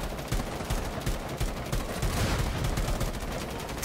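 Sustained automatic gunfire from a long-firing weapon in Rainbow Six Siege's Outbreak mode, a dense, loud, continuous rattle of rapid shots lasting throughout with no voices over it.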